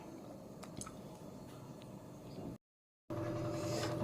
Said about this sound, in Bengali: আমি থালি বাসন ধুয়ে নিচ্ছি